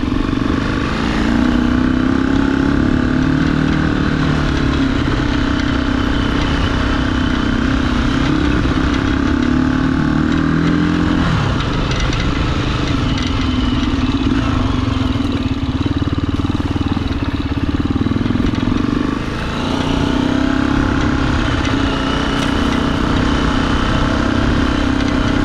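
A Gryffin 450 motorcycle ridden off-road on a Kentucky trail, its engine droning steadily and loudly the whole time with small shifts in pitch as the throttle changes, close to the microphone and without voices.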